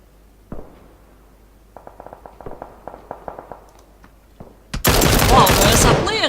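Gunfire aimed at a car in PUBG Battlegrounds, with a quiet stretch of sharp spaced shots from a distance, then a sudden loud, dense close-range burst that fills the last second and a half.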